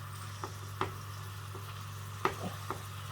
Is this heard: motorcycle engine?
no